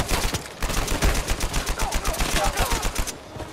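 Rapid automatic gunfire from an Uncharted 4 multiplayer match, a dense stream of close, loud shots firing almost continuously for a few seconds with only brief gaps.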